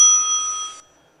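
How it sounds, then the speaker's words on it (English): A single bright bell rings at a stage event to signal that a presentation's time is up, ringing clearly and cutting off within a second. "A bell will ring when their time is up, and the bell sounds something like this"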